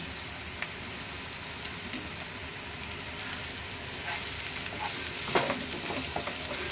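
Oysters coated in mutton masala, turmeric and garam masala fry in a pan with a dense, rain-like sizzle and crackle, stirred with faint scraping throughout, fairly steady and close.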